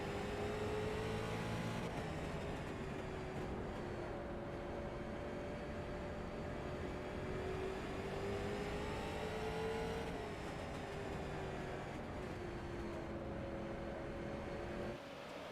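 Dirt street stock race cars roar continuously around a dirt track, engine notes rising and falling as they lap, a steady distant drone with no speech.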